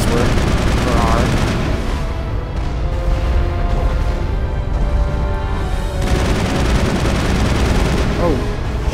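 Dense gunfire in Mass Effect 1 crackles continuously with booms and bursts, loud and chaotic, with speech-like voices mixed in the din.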